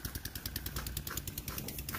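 A diesel engine pulling two sleds: a close, steady, rhythmic low chugging with regular beats, moderately faint and alone without talk.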